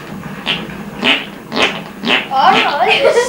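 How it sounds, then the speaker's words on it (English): An underarm farting trick, done by pumping an elbow against the armpit, gives four rhythmic squelchy bursts about half a second apart, followed by a person talking close by. "There's nothing like the old underarm farting trick"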